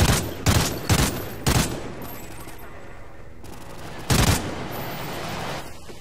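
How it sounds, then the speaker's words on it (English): Gunfire in Call of Duty: Ghosts, several loud, sharp shots in quick succession, a pause with lingering echo, then another heavy blast, close and prominent, with no talking. "Can I just shoot them from here?"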